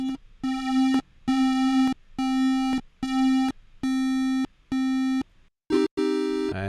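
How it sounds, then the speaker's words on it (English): A Roland D-50 synthesizer plays a repeated sustained tone through its chorus effect, in evenly spaced bursts of about half a second, then a brief higher flourish at the end, loud and with no voices. "For the chorus we get to pick between a bunch of different types, dialing up the balance here so we can hear it."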